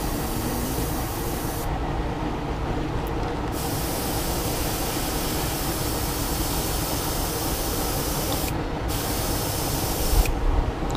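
An airbrush sprays paint onto an Ozark Trails lipless fishing lure at low pressure, giving a close, steady hiss that cuts out briefly twice and then resumes.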